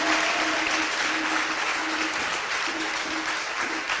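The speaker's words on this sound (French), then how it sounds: "On va applaudir." Congregation applauding inside a church during a sermon service, a steady sustained clapping throughout with no break.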